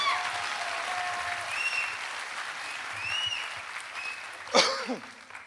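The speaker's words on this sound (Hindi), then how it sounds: "तालियां होनी चाहिए।" An audience at a motivational talk bursts into sustained clapping, a dense wash of applause filling the room with a faint voice and a cough-like sound near the end.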